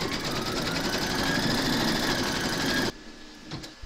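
An embroidery machine stitches a placement outline for a scarecrow appliqué, a steady close whirring chatter running for about three seconds before stopping abruptly, leaving faint mechanical clicks.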